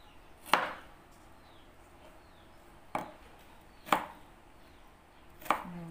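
Thin slices cut from ginger root with a knife on a board for a salad: four sharp, separate chops spaced irregularly over a few seconds, close and fairly quiet, with no talk.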